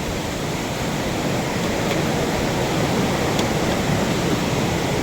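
Floodwater rushing into a house, a loud, dense, unbroken roar of churning water that holds steady and close throughout, with no voices over it.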